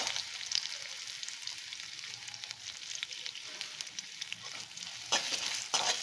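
Finely chopped peeled ginger sautéing in a hot pan, a steady close sizzle with occasional stirring scrapes, no voices.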